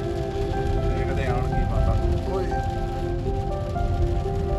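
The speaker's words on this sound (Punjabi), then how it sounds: "ਹੁਣ ਮੀਂਹ ਪੈਣ ਲੱਗ ਗਿਆ" Rain falls steadily on surfaces around a vehicle in traffic near Amritsar, a dense, even patter under a constant low engine and road rumble, with faint tonal sounds drifting over it.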